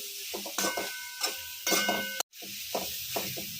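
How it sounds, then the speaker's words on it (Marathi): Soybean chunks stir-fried in a pan over a full gas flame, a bright sizzle broken by repeated spatula scrapes and light metal clinks, close and lively with one abrupt brief dropout. "सोयाबीन परतताना एक लक्षात ठेवा नेहमी गॅसची फ्लेम फुल ठेवायची"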